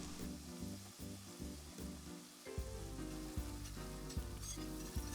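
Flour cooks with onions and garlic for a beer cheese sauce, giving a steady soft sizzle throughout, with a low background hum and a slight rise in intensity midway.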